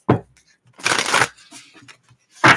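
Tarot cards being shuffled in quick riffling bursts, three short close rustles with pauses between them and no talk.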